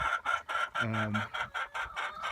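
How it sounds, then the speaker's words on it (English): Chickens of an egg-laying breed clucking close by in a farm chicken yard, a run of short repeated clucks with one longer drawn-out call in the middle, fairly quiet. "all these chickens are of a particular type of color for their eggs"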